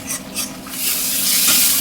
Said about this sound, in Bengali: মশলা আমার পুরো ভাজা হয়ে গেছে, এবার নিচে ধরে যাচ্ছে